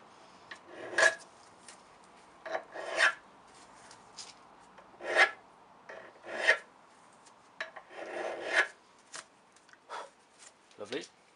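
A hand file rasps sharp inner edges off a Classic Mini ball joint that was earlier knocked apart with a hammer. Short scraping strokes come in irregular bursts up close, with brief pauses and a voice at times.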